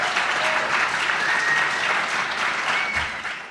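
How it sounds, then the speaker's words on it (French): An audience at a French panel forum bursts into warm, dense applause right up close, steady clapping that holds for a few seconds before starting to thin out. "On peut les applaudir."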